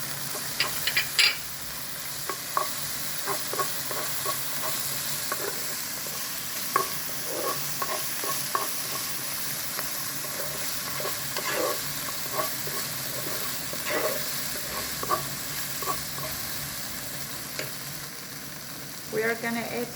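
Pepper paste is stirred into fried eggplant in a pan, a constant close sizzle overlaid with repeated scraping and tapping of a utensil throughout.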